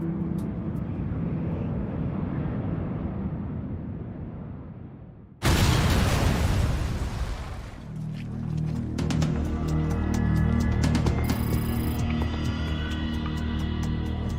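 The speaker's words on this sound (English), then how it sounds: "an explosion rips through Tokyo's Narita Airport" A sudden loud explosion bursts at Tokyo's Narita Airport, cutting through a steady low roar of aircraft noise and fading into rumbling background with scattered clatter, close and dominant.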